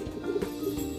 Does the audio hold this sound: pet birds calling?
yes